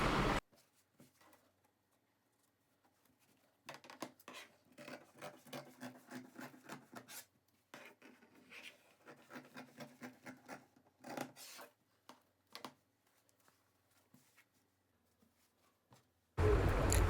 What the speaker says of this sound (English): I'll just use a slanting line to draw from that center to the end.